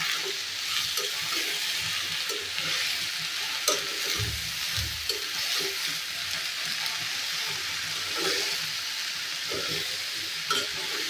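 Vegetables coated with turmeric, chili and a little ginger paste are stirred in a hot pan, a steady soft sizzle broken by repeated scraping strokes of a spoon, close and continuous with no talk.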